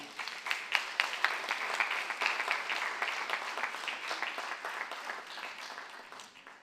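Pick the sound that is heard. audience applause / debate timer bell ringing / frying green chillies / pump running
audience applause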